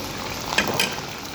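Food frying in a pan, a steady close sizzle with a brief stir swelling it for a moment, and no talk.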